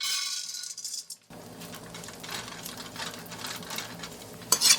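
Raisins fry in oil for gond halwa, a steady, close sizzle with faint stirring that starts abruptly after a brief quieter moment and carries on to the end without talk.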